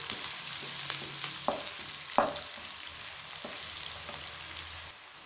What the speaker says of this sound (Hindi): प्याज को हमने गोल्डन ब्राउन करना है।